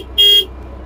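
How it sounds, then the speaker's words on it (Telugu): Horn of a Green Field Crop King 120 steering harvester sounds once, a loud steady tone lasting about a quarter second close by, over a low idling engine rumble. "ఈ మిడిల్ అయితే హార్న్"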